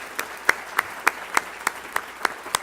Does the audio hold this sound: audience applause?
yes